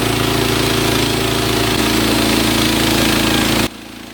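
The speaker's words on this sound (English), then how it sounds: "this is a video of watching a bandsaw, the Woodland Mills HM 130 Max," Woodland Mills HM130 Max bandsaw mill cutting a loblolly pine log, a loud continuous engine drone with a rasping saw texture that abruptly drops to a quieter idle near the end.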